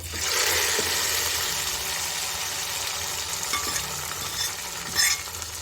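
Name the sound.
sizzling tempering being stirred into rava pongal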